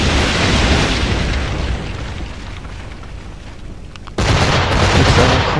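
Warship cannon fire and explosions in the naval combat of Assassin's Creed Black Flag, a loud continuous roaring blast that dips quieter midway, then erupts again in an abrupt heavy boom.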